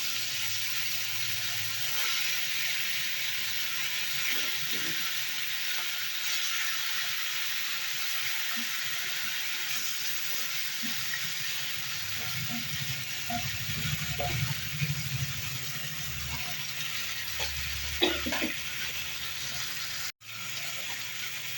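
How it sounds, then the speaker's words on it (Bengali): Marinated spiced fish pieces fry in oil in a wok, giving a steady broad sizzle throughout with a few louder crackles and spits near the end. "আর এই যে মশলা মাখিয়ে রেখেছিলাম আধা ঘন্টা আগে, সেই মাছগুলো একে একে দিয়ে দেব।"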